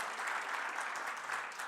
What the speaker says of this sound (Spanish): Dale un aplauso fuerte al Señor, porque el Señor hizo posible